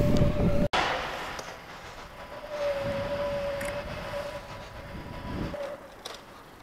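A wailing siren holds a steady tone over loud, rumbling traffic noise on a busy Manchester city street, then fades as the rumble drops away.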